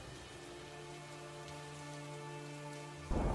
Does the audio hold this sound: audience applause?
no